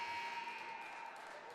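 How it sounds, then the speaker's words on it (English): The final buzzer at the end of a freshman high school ice hockey game sounds as a faint, steady electronic tone that carries across the rink. "Final buzzer sounds."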